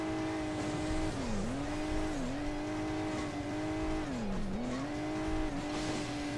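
A red Ferrari engine in the Hill Climb Racing 2 game revs steadily, its pitch dipping and climbing again several times as the car bounces over hilly terrain, loud and continuous with no talk.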